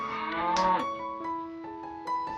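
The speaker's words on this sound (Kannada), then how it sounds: "ನಮ್ಮನೇಲಿರೋ 7 ಹಸುಗಳಲ್ಲಿ ಇವಳೇ ಪುಟ್ಟಲಕ್ಷ್ಮಿ, ಚಿಕ್ಕವಳು." A cow in Shivamogga, Karnataka, gives a long, loud, close moo with a brief break in the middle, sounding alone.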